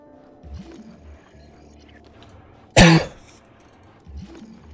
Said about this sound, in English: There was a cough.